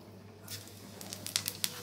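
Five-spice seeds dropped into a little hot oil for a live catla fish curry, giving a faint, sparse crackle and spatter of small pops building after a quiet start.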